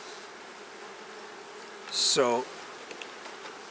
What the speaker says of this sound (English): There's a decent amount of bees in here.